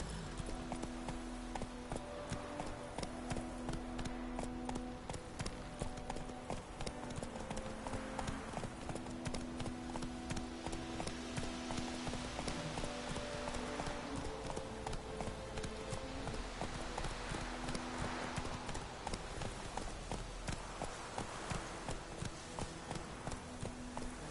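Roach the horse galloping in Witcher 3, a steady rapid clip-clop of hooves running without pause for over twenty seconds alongside a faint tonal music bed.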